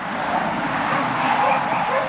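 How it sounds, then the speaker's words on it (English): Dogs bark in a muffled, continuous background wash of noise, the barks blending into a steady din rather than standing out sharply. "That's my dogs."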